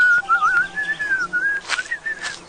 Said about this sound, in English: His whistling may be just the thing I need.